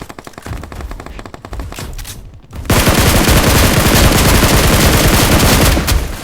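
Video game gunfire in BGMI: sparse rapid shots give way to a loud, continuous machine-gun burst that holds steady for several seconds with no talk.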